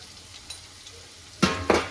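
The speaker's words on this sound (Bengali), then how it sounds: "পেঁয়াজটা ভাজবো।" Onions fry in a pan of hot oil: a quiet low sizzle, then two sharp, loud crackling bursts close together near the end, as if the pieces are stirred or tossed.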